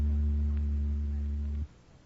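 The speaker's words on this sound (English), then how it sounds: "That was an electric oscillator you just heard" An electric oscillator sounds a steady low hum at about 80 cycles per second, loud and unwavering for a second and a half before cutting off abruptly into faint hiss.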